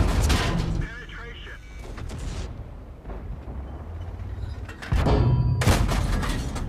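Tank cannon shots from a Strv m/41 in World of Tanks gameplay, heavy booming blasts near the start and again toward the end, with rumbling engine and battle noise between and commentary talking over them.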